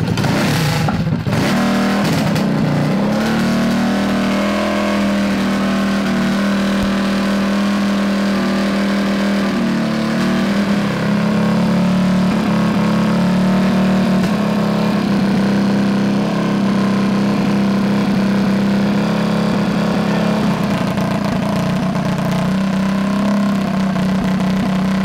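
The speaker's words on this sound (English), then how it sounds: "We let the engine brake in per Tillotson's recommendation, letting the engine heat cycle a few times" A Tillotson 225cc big valve small engine, a billet build, runs loud and close with a steady low drone, briefly dipping and rising in pitch as it revs, with no talk over it.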